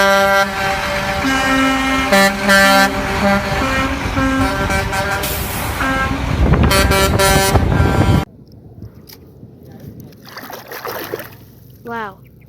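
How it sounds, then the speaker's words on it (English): A concrete mixer truck honks in a series of loud, sustained horn toots for about eight seconds before cutting abruptly to a much quieter stretch. "this is a mixer truck guys"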